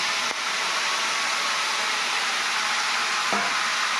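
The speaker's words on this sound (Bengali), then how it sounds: "দিয়ে মাংসটাকে আমি একটু ভাজাভাজি করে নেব" Salted, turmeric-rubbed chicken pieces frying in a pan, giving a loud, dense, even hiss of hot oil that holds steady throughout, with a couple of brief clicks and no speech.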